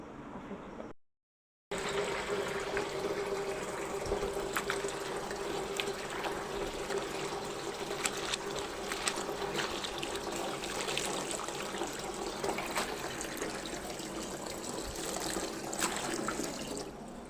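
Chopped greens being washed by hand in water, a steady close sloshing and trickling with small splashes throughout after a brief gap.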